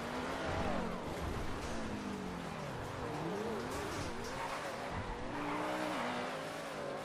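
A McLaren supercar driven in GTA V gives a steady, loud engine drone that rises and falls with revving, with bursts of tire squeal throughout and no talk over it.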